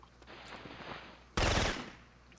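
Gunfire in the PS1 video game Syphon Filter: after a quiet stretch of faint game ambience, one sharp, loud burst of automatic shots rings out for about half a second and then fades.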